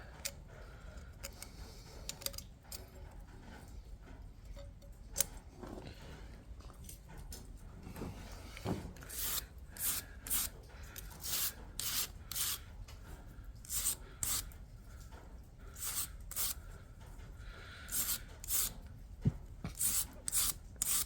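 Scraping and cleaning gasket mating surfaces on an International engine gives soft, irregular bursts of close scratchy rubbing, spaced with pauses and faint ticks over a quiet background.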